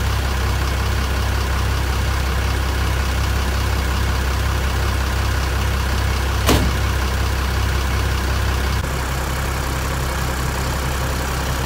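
The diesel engine of a coachbuilt bus from Karoseri MP76 Bogor runs loud and steady as the bus pulls out, a continuous rumbling drone. A single sharp click cuts in briefly partway through.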